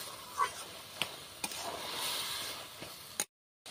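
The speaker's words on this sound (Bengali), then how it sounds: "5 থেকে 6 মিনিট আমি ভালোভাবে নাড়তে থাকবো।" A spoon stirs elephant foot yam stalk curry in a pan with faint scraping and soft sizzling, broken by a few sharp clinks before a sudden cut to silence.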